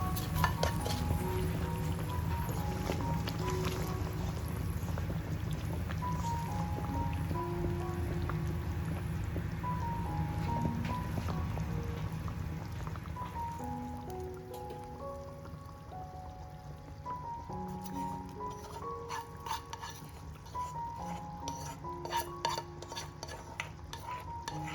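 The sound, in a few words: pouring tempering into chicken curry and stirring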